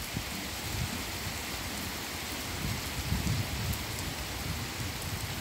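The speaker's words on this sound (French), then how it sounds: "C'est les gouttes qui s'éclatent contre des obstacles, contre des surfaces, et ça fait un brumisateur." Heavy rain during a thunderstorm in Meyzieu on 28 April 2020, a dense steady hiss of drops splashing on the road and other surfaces, with low gusty rumbles of wind underneath.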